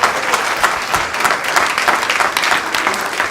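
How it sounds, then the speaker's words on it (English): Audience applause after a rugby league talk, a steady, dense patter of many hands clapping together at close range with no voices over it. "let's give him a clap"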